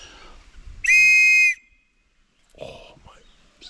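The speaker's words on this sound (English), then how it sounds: "I'll blow my scout whistle ready." A scout whistle gives one loud, sharp, sustained blast of under a second outdoors in a wooded, snowy setting, then brief faint rustling and a voice afterward.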